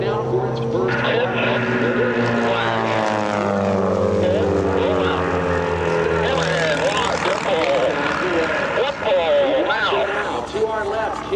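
Two Redline Airshows aerobatic propeller planes at EAA AirVenture 2025 roar through simultaneous hammerhead turnarounds, engines sweeping steadily in pitch as they climb and turn, loud and fairly near, with an announcer talking over them.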